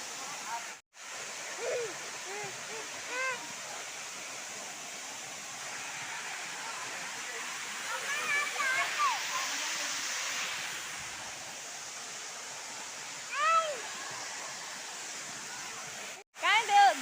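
Steady rushing of a waterfall in Deogarh fills the scene, with faint voices and occasional bird-like chirps over the continuous roar of water.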